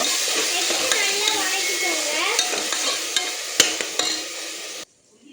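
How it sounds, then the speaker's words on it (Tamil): Ground masala paste fries in a pan while being stirred for a Sunday ghee rice and egg roast, a steady sizzle with repeated scraping strokes and clinks, close and loud, before cutting off near the end. "போட்டு நல்லா வணக்குங்க."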